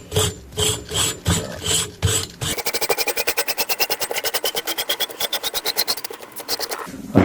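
A threaded coilover with Civic/CRX parts is tightened on a Rover 216 GTi 16V, first with a few slow grinding scrapes, then a long fast run of close, evenly spaced ratcheting clicks.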